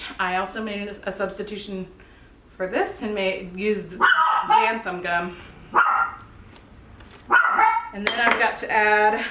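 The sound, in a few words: dog barking in the background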